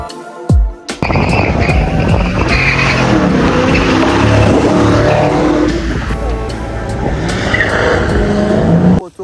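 A car at a driving event in Amby Valley passes close by on a hillside road, its engine revving hard and roaring loudly for several seconds before it cuts off abruptly.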